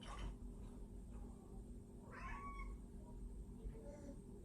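A house cat that has just come home gives one short, clear meow in the middle, faint against a low room hum.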